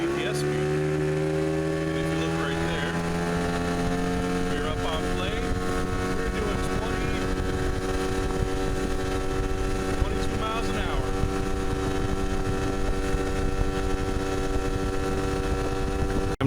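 A boat engine idles in neutral while the boat drifts with the current on a river near Kaw Point. It makes a steady, low, humming drone with a constant pitch and an even level for the whole stretch.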